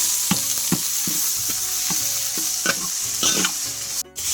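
A spoon scrapes and stirs onion, chili and garlic paste in a frying pan with a steady sizzle, irregular knocks of the utensil recurring every half second or so, close up and alone.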